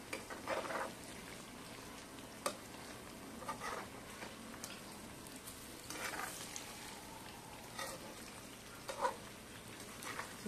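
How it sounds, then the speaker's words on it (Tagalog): Brown sugar melts in a pan as it is stirred, giving soft sizzling and frying crackle with intermittent scraping stir strokes and faint bubbling at low volume, no voices. "Halo-haloin natin para matunaw o ma-melt yung ating brown sugar"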